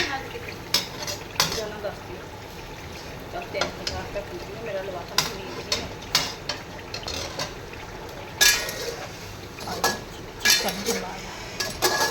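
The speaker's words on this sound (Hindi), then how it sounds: "एक दफ़ा मसाले में अच्छी तरह से ये चिकन को भून लेते हैं" A spoon stirs chicken roasting in ghee and masala in a pot for yakhni pulao, giving intermittent close metallic clinks and scrapes over a soft background sizzle.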